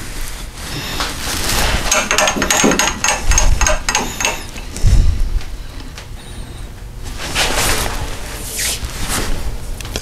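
Taps of a mallet or hammer on a wooden hollow form mounted on a lathe, a scattered series of knocks with a louder hit midway, heard up close against workshop background.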